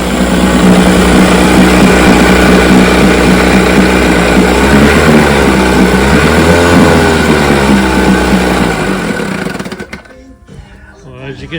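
A 65-year-old Johnson outboard motor with a rebuilt carburetor runs on a test stand outdoors, a loud, steady, close drone that holds for most of the stretch before suddenly cutting away near the end.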